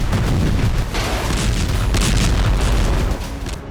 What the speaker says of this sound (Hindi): ये खान यूनिस में बमबारी का वीडियो है, जिसमें बमबारी के बाद एक पूरी इमारत तबाह हो गई।